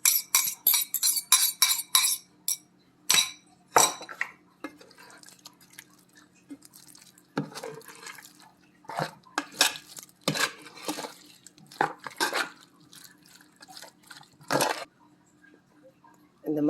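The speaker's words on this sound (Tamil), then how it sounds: "அந்த ஃப்ரூட்ஸில் அந்த எக்கை அடித்து அதில் மிக்ஸ் பண்ணிக்கலாம்" Eggs being beaten and mixed with fruit in a bowl for a cake, a burst of rapid whisk clicks against the bowl, then irregular taps, clinks and wet stirring, close, with someone talking intermittently.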